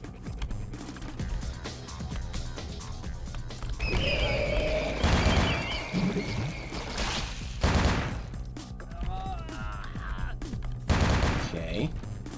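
Gunfire in the video game Vampire: The Masquerade – Bloodlines, several loud bursts and single shots spread across the clip over game music and ambience, with a voice talking at points.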